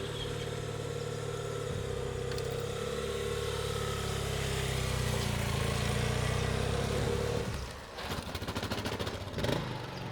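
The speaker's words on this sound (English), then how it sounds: "That started the engine." A motorcycle engine, just started by towing with a rope behind another motorcycle, idles steadily with a low droning hum, then a brief rattly stutter near the end as the revs shift.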